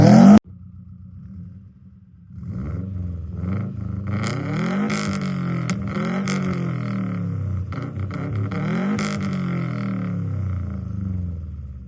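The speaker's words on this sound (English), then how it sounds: "the partial interruption from Carson with the exhaust revving" A 2013 Subaru WRX STI exhaust blipped through several sharp revs, each rising to a roar and falling back, over a rumbling idle; loud and close, with a short burst of another noise at the very start.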